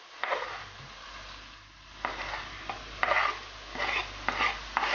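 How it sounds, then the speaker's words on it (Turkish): Onion being sautéed with softened carrot in a pot for Azeri pilaf. Quiet, intermittent scraping strokes of stirring come in short bursts over a faint background sizzle, with no speech. "Soğanı kavurmak için belli bir süre vermiyoruz."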